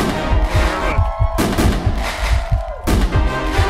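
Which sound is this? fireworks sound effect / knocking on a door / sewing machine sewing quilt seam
fireworks sound effect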